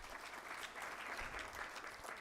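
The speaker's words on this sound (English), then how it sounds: "Please give him a big round of applause." A crowd at a sustainability awards ceremony gives a minister a brief round of applause, steady clapping heard faintly from a distance.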